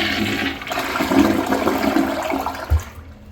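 An early-2010s second-generation American Standard Champion 4 (Titan) toilet, rated at 1.6 gallons, flushes in a short rushing gush of water that gurgles and drains away within about three seconds, heard close up with no talking.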